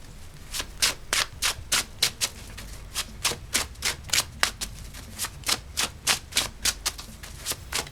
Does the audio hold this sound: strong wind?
no